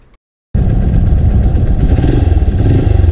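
A Honda XR 150 L motorcycle engine bursts into a loud, steady, rough roar after a brief near-silent start, holding a continuous close-up rumble with slight fluctuations throughout.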